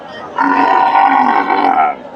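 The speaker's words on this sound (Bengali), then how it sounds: "বাচ্চা ছাড়া দুধের গাভী গরুগুলো" A Friesian cross dairy cow lets out a long, loud moo lasting nearly two seconds, close by, at a cattle market in Bogura, with a faint murmur of a crowd underneath.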